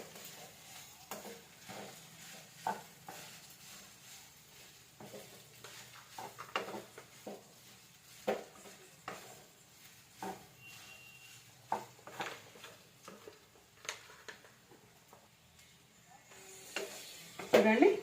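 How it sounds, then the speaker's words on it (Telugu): A spatula scrapes and tosses vegetable fried rice in a pan, irregular soft knocks and scrapes against metal under a faint sizzle, close by and intermittent, growing busier toward the end. "చూసారా, ఈ విధంగా కలుపుకోవాలండి మొత్తం."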